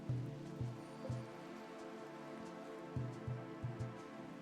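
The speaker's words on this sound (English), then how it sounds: "We should only have foggy rain for about one more day." Soft rain patters in the video game RimWorld, a faint steady hiss broken by a few muffled low thumps, with no voices.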